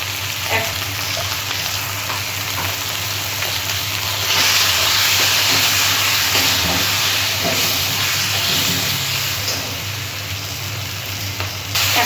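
Turmeric, chilli and cumin powder with salt and ginger-cumin paste sizzle and hiss in a pan for a mrigal fish curry with potato and pointed gourd. The loud, continuous frying swells midway, with occasional stirring scrapes.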